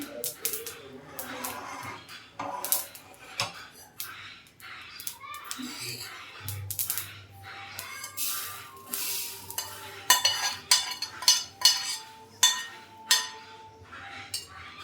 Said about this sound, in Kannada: ಇದೇ ಪ್ಯಾನಿಗೆ ನಾನು ಕರಿಬೇವನ್ನ ಹುರಿತಾ ಇದ್ದೀನಿ